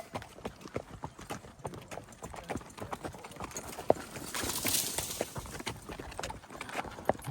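A horse's hooves clip-clop in a steady walking rhythm as a rider heads out across a desert cattle ranch looking for cows, close and clear with faint rustling between the footfalls.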